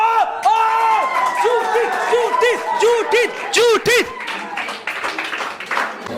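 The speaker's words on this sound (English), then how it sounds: "So please put your hands together." Audience at a public speaking competition clapping and cheering, with loud whoops and shouted voices rising over steady applause near the microphone; a voice calls out a name.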